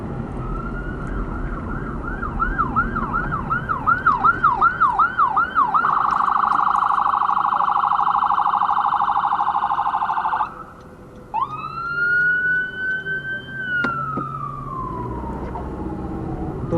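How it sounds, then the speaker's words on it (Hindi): Ambulance siren on a road, loud and close, starting with a fast rising-and-falling wail, switching to a long steady tone, then a sweeping yelp that falls away as it passes over constant traffic noise. "वो एम्बुलेंस की आवाज़ आई तो मैंने गाड़ी वहीं फ़ौरन स्टॉप कर दी"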